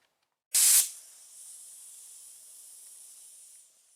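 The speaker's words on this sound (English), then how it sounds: "I'm gonna spray a light coat of Undercoat clear just right here" A sharp burst of aerosol clear coat spray onto a fiberglass car dashboard opens with a loud hiss, then settles into a steady, softer hiss lasting a few seconds before cutting off.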